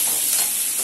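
Chopped tomatoes hit a hot pan for a Tamil-style beans poriyal, giving a steady, close sizzle with faint stirring that holds even for under a second, with no voices.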